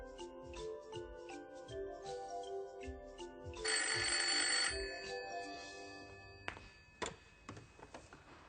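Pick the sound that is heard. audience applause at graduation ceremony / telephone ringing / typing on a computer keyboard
telephone ringing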